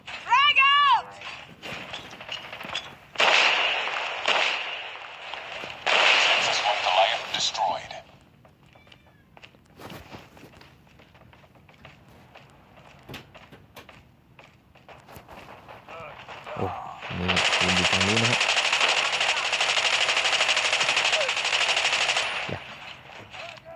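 Grenade blasts and bursts of automatic gunfire in Call of Duty Mobile's Juggernaut mode come in loud clusters, separated by quieter stretches, with someone talking over the game action.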